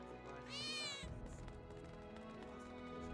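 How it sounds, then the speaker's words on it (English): A cat meows once in the game Final Fantasy 7 Remake, a single clear rising-and-falling mew over a quiet background hum. "Kitty."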